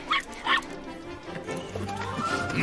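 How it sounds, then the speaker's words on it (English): Dogs in a family movie bark and whimper in short yips near the start, followed by a busier mix of squeals and movie sound that carries on to the end. "Dogs!"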